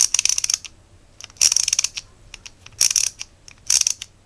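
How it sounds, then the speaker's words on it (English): The ratchet on a cheap Aliexpress mini fat tool clicks close up in four quick bursts of rapid, crisp, evenly spaced ticks separated by short pauses. "you can choose the ratchet to go left or right"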